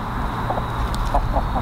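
Roosters cluck softly inside a chicken tractor on grass, a few short, low clucks spaced through the moment over a steady outdoor hum, fairly faint and without any crowing.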